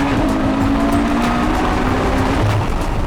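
A modified Ferrari F12 with a V12 engine revving hard and downshifting in Manila, a loud, continuous engine roar close by with a steady droning tone that holds throughout.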